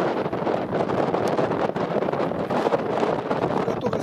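Cold wind blows outdoors by the water, a steady loud rumbling roar buffeting the microphone for the whole stretch.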